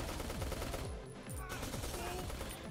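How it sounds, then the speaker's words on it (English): Rapid rocket launches and blasts from the top-down shooter JYDGE, a continuous barrage of repeated swooping bursts over loud game action, with no talk. "I just fired all my rockets down there."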